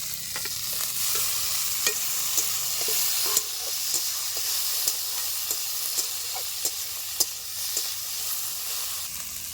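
Onion, tomato and green chilli sizzle steadily in a pan for a Bengali gutum fish curry, with a hissing frying bed broken by regular scraping stirs and clinks of a spatula, close and continuous.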